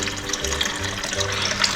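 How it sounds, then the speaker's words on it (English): Water poured steadily into the reservoir of a black Proctor Silex coffee maker, a continuous close splashing fill with no voices. "So then you need to put the water into the coffee machine"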